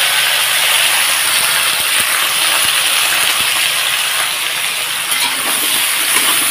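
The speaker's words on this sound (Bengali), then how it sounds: "তো এখন আমি কেটে রাখা সবজিটাকে দিয়ে দেব।" Chopped mixed vegetables sizzle in a hot pan, giving a loud, continuous hiss of frying with faint crackles throughout and no talking.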